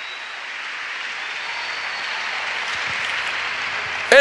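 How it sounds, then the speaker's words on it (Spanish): A church congregation claps in praise, a steady broad wash of applause that holds evenly for several seconds before a brief louder burst at the end. "Dele palmas al Señor de la gloria"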